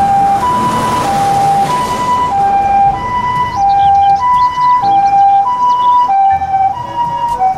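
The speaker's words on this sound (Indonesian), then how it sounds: "ambulans." Ambulance siren blaring in a steady two-tone hi-lo pattern, alternating notes about every half second, loud and close with no talk over it.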